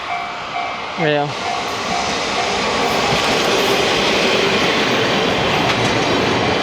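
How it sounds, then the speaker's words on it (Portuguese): A train rolls past close by in Arashiyama, Kyoto, Japan, a loud continuous rumble with clattering wheels, and a brief descending chime early on; someone speaks over it. "Bonito esse trem, né, velho?"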